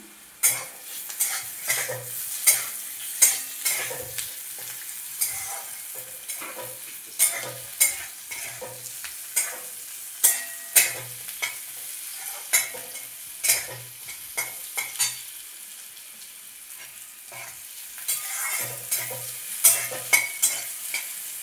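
Chopped pumpkin and carrot pieces fry over medium heat while a spatula stirs them, repeated scraping clacks against the pan in an uneven rhythm over a soft sizzle, close up and without talk.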